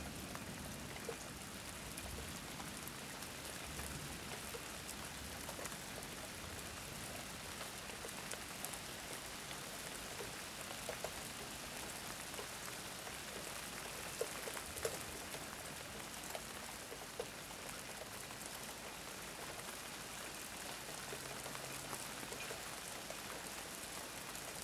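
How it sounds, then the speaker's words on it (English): Steady rain pours down during a lightning storm, a dense constant hiss of drops on surfaces, even and unbroken, with a few louder drips and no distinct thunder. "here comes the rain"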